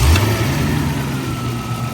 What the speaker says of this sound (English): look at just how smooth this engine still is